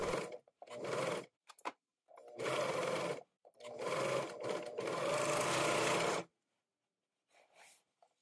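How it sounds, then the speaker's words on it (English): A sewing machine stitches the center back seam of a sleeve in close, loud bursts of rapid mechanical whirring, short starts and a long final run, then stops to near silence. "Next, stitch the center back seam of the sleeve back, or piece 8."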